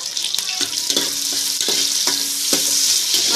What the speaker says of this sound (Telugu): 1 ఉల్లిపాయ, 4 పచ్చిమిరపకాయలు వేసుకొని బాగా వేపుకోవాలి నూనెలో.